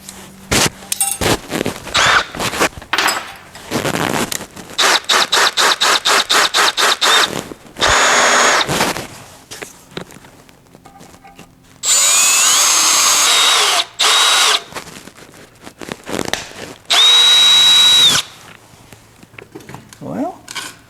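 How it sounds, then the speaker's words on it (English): An electric drill whines in repeated bursts, drilling into a metal casting, starting and stopping in short and longer runs, close and loud, with brief high squeals as the bit bites. "I could drill that with a drill"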